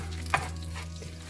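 Moong dal kachori filling is stirred in a pan over a medium flame: a single soft scrape cuts through a quiet, low sizzle in a short, faint moment.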